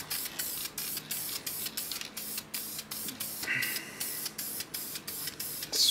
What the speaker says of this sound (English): just give her a nice little spritz here